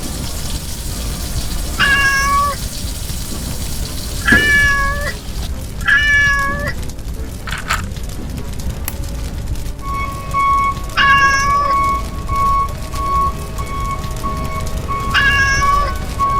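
A kitten meows repeatedly in short, high, clear calls spaced across the scene of a toy LEGO Technic fire truck rescue, with a steady background hum and occasional thin tones.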